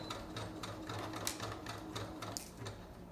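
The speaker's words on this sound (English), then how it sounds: "I'm gonna go ahead and put my taco pillow into the machine" Sewing machine running a zigzag stitch along the edge of a taco-shaped pillow, a quiet, fast rhythmic clatter of the needle with steady mechanical whir, alone.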